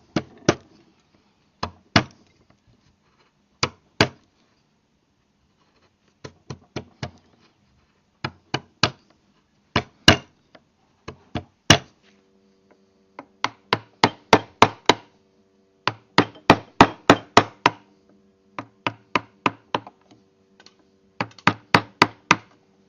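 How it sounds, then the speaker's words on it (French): Wood carving with a chisel while shaping a volute, sharp close taps in short clusters of two to five, separated by pauses, with a faint steady hum behind some of the strikes. "Avec un ciseau, je prolonge le sommet, le haut du dessin de la volute."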